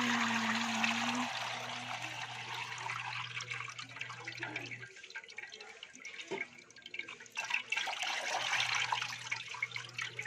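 Coconut milk pours into a cooking pot for Bicol-style laing, a steady watery trickle and splash running throughout, near and fairly loud, with a low hum underneath and no talking.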